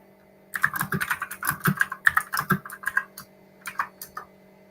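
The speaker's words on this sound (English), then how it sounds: "I just typed." Quick bursts of key presses on a computer keyboard, close and crisp, clattering in uneven clusters with a short pause before a final few taps.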